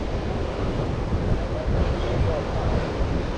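Ocean surf rolls in steadily on the beach at Ballito, South Africa, a continuous broadband wash of breaking waves mixed with wind buffeting the microphone, loud and unbroken with no clear talk.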